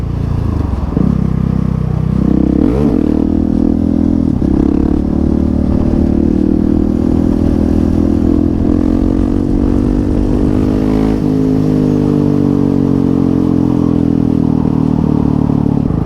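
A Ducati motorcycle rumbles close by with a loud, deep engine drone, swelling and shifting in pitch as it moves past against steady road and wind noise, with no talking.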